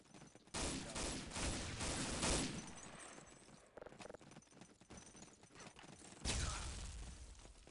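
Gunfire and grenade blasts in the World War II shooter Day of Defeat 1.3: a dense run of overlapping shots and bursts, with a fresh loud crash near the end and continuous combat noise throughout.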